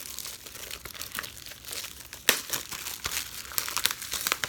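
Plastic wrapping being torn and crinkled off a Batman: Family Matters Blu-ray/DVD combo case, with a steady run of close crackling and sharp tearing bursts.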